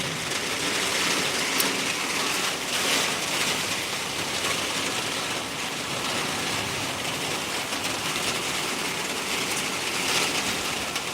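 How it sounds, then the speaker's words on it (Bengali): Heavy rain pours in a dense, steady hiss that stays loud and even throughout, with no voices over it. "দেখো কত জোরে বৃষ্টি হচ্ছে"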